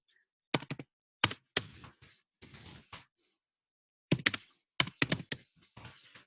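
A computer keyboard is typed on in short bursts of crisp, close key clicks, separated by brief pauses, with no voices.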